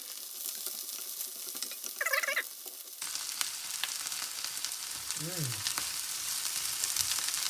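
Food frying in a pan, vegetarian cooking: a steady close sizzle runs throughout, louder after a few seconds as ingredients go in, with brief clatter of utensils and no talk.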